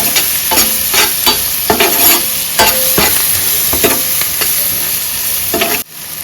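Turmeric powder and homemade masala being stirred into a loudly sizzling pan for a spicy prawn dish, a steady fry hiss under repeated spoon scrapes, cutting off abruptly near the end.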